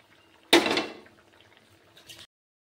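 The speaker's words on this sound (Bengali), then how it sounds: "দেখুন ঝোলে ফুট এসে গেছে।" Egg curry gravy bubbling in a pot as the lid lifts off, a sudden loud burst of rolling boil and steam that tapers to a softer simmer, with a brief clatter near the end.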